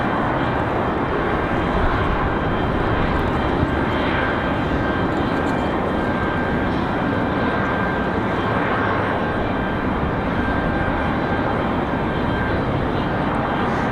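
A Southwest airliner on approach to Raleigh-Durham International Airport in a crosswind gives a loud, steady engine roar with a faint whine, holding even throughout with no talk.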